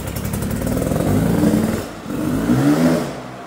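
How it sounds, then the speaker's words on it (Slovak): A motocross motorcycle revs loudly up close, a rough throaty engine rising in two surges with a brief dip between them. "To je motocrossová motorka."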